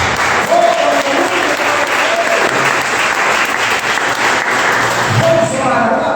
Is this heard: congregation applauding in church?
yes